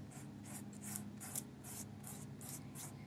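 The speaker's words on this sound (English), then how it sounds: "we're going to take our hand and we're going to just rub it once over each of the areas to blend the colors" Hand rubbing soft pastel colours on paper to blend them, a faint, soft series of about nine rhythmic rubbing strokes.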